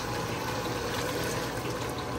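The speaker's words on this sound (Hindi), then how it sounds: "बस 1 कप पानी डाल रही हूँ" Water poured from a cup into a pot of browned chicken curry, a steady close rushing pour with bubbling underneath, continuous and fairly quiet with no voices.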